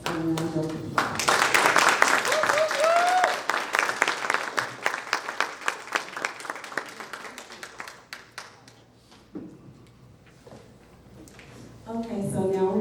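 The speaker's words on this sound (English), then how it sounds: "Let's give our students a round of applause." An audience at a customer service completion ceremony claps for the graduating students. The applause is loud and dense at first, then thins into scattered claps before fading, and a voice speaks near the start and again at the end.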